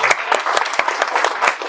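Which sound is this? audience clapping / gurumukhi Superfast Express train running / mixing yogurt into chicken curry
audience clapping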